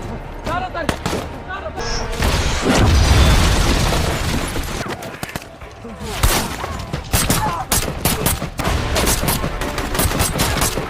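A frantic firefight in an action film about former soldiers, with dense bursts of rapid gunfire, heavy booms and sharp cracks layered over dramatic music and loud throughout.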